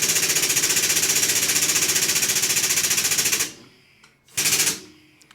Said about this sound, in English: So we just use the press to flatten that crease out.